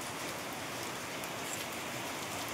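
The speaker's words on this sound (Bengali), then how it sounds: "মা আর আমি দাঁড়িয়ে দাঁড়িয়ে এখানে দাঁড়িয়ে দাঁড়িয়ে বৃষ্টি দেখছি" Rain falls steadily in a soft, even hiss, fairly faint and continuous, with no voices over it.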